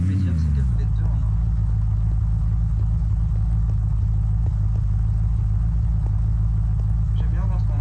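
Car engine in modded Minecraft, a steady low rumble holding close and loud throughout while the vehicle backs up, with faint clicks and a voice briefly at the start.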